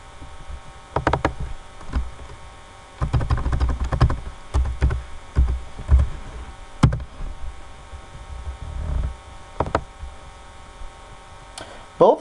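Bursts of quick key clicks on a computer keyboard as voltage values are entered into calibration software, close and moderately loud over a low electrical hum, with pauses between runs.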